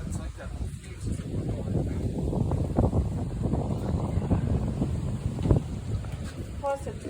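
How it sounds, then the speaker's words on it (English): Wind buffets a microphone outdoors during a backyard fireworks attempt, a constant low rumbling roar with gusty surges, while people talk faintly underneath. "Plus, it's windy."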